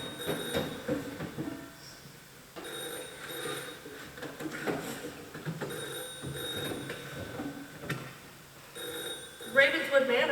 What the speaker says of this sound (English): What's that? It's a telephone.